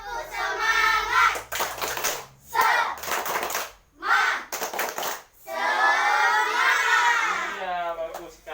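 Children clap a quick rhythmic pattern in several bursts, interspersed with loud group chanting and shouting from a nearby crowd of kids.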